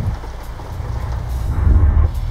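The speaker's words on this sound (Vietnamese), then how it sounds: "Mưa gì mà dữ vậy, mưa mà làm ngập nước luôn." Heavy rain hisses and pounds constantly during a storm in Euro Truck Simulator 2, with low rumbling thunder swelling toward the end; no voices.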